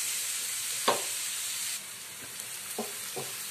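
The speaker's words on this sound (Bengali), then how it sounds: "পেঁয়াজ ভাজা হয়ে গেছে" Onions frying in a pan for a chicken ghee roast, a steady soft sizzle with a few sharp stirring clacks, the hiss dropping quieter partway through.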